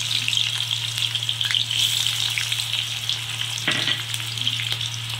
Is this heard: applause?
no